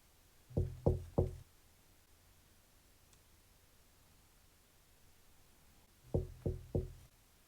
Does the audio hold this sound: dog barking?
no